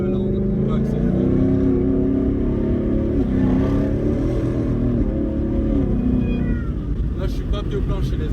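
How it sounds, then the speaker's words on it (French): Ford Mustang GT V8 accelerating at part throttle, a loud, sustained engine drone with rising and shifting tones filling the whole stretch, voices faintly present. "Écoutez un peu, là, on va accélérer."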